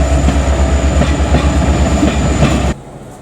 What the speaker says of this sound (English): There's the Flagstop train going out from Talkeetna the 60 miles to Hurricane Gulch